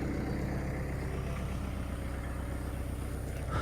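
A tractor engine runs steadily and close by during downed-tree clearing for a burn pile, a constant low, rumbling idle-like drone with no talking.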